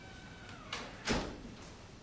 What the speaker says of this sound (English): Bathroom door.